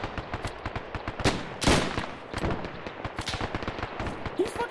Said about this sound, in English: He's fucking shooting back at us.